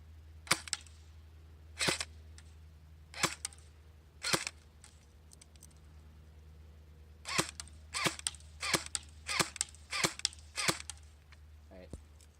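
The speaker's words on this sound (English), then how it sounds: "I'm just going to do 10 shots, so here we go." An airsoft gun fires about ten sharp, snappy shots at a target nearby. The first shots are spaced well apart, then a faster series follows after a pause.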